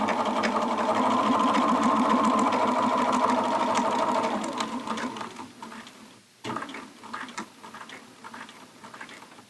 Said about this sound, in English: change my stitch length to a basting stitch, still keeping my seam allowance at 5/8, and I'll sew down to my second pin.